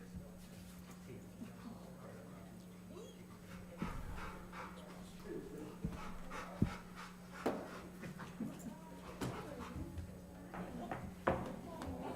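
A police dog pants softly and rhythmically at a city council meeting, with faint whimpers and scattered thumps and rustles in a quiet room, while people speak at a distance.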